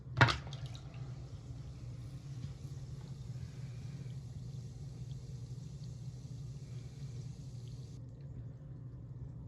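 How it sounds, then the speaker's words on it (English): Two toy bath bombs fizz in a sink of warm water, giving a faint, steady hiss over a constant low rumble for most of the clip before the hiss stops near the end. "while it's still fizzing, let's look and see what's inside here"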